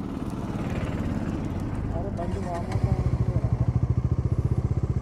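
Superbikes ride out together on a New Year road trip, engines droning steadily and then pulsing in a rapid throaty rhythm as one revs up close, with wind rush and a voice speaking over the ride.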